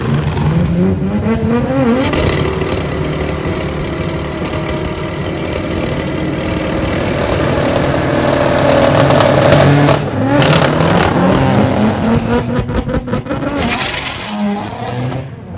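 A rotary-engine race car revs hard and loud, rising and falling in pitch with a buzzing, high-strung tone, up close for the whole stretch.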